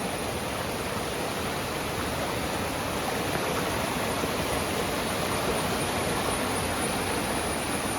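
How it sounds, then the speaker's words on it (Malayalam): A hill-country river in Idukki rushes over smooth stones, a dense, steady broadband roar of flowing water, close and constant throughout. "മുകളിൽ നിന്ന് പുഴ ഇങ്ങനെ ഒഴുകി വരുന്നതാണ്"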